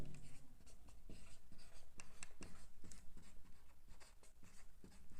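Pen moving on paper as a heading is written by hand in a physics lesson, a continuous soft scratching with irregular strokes and taps, close and quiet over faint room noise.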